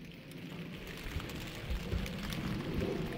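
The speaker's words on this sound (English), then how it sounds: "Just a bit of rain?" Light rain falling outdoors makes a steady, close patter of drops with small swells in intensity and no voices.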